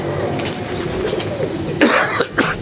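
Pigeons returning to their loft coo steadily at close range, then a burst of wing flapping breaks out near the end as the birds arrive and settle.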